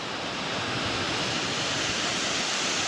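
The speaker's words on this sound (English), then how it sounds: "this is Glory Hole Falls" Glory Hole Falls, a waterfall in Arkansas, pours in a dense, steady roar of rushing water, close and constant throughout with no voices.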